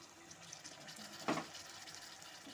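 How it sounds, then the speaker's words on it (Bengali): Rinse water from a mixer bowl is poured into frying spice masala of onion, garlic and ginger, giving a short, faint gush over a low background hiss. "এখন এর মধ্যে আমি একটু দিয়ে দিচ্ছি মিক্সির বাটি ধোয়া জলটা"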